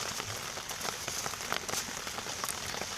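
Steady rain pattering on surfaces outdoors, dense close drops with sharper individual hits scattered throughout, no voices.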